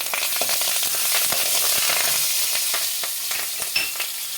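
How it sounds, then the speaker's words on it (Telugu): Curry leaves and green chillies dropped into hot oil for a drumstick (munagakaya) curry, crackling and sizzling loudly with dense spitting pops that thin out slightly toward the end. "కరివేపాకు వేస్తున్నాను."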